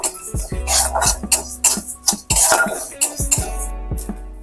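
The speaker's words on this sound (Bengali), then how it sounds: "ধনে জিরে মৌরি হালকা করে ভেজে নেব" Coriander, cumin and fennel seeds dry-roasting in a kadai, with a spoon clattering and scraping against the metal pan in quick uneven knocks, close and fairly loud.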